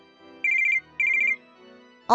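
A phone rings in two bursts of warbling trills, each lasting about a third of a second, with a short gap between them. A louder sound cuts in at the very end.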